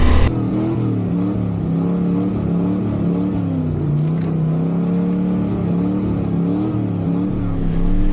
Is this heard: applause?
no